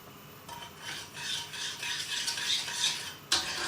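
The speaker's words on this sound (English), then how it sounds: "we're going to have it on a low heat, and we need to keep stirring it" Rowan berry jelly is stirred in a pot on low heat. Soft, rhythmic scraping strokes of a spoon against the pan come close and fairly quiet, ending with a sharper knock.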